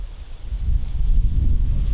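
Strong wind buffets the microphone on an open disc golf course, a steady low roaring rumble that swells and gusts throughout with no voices.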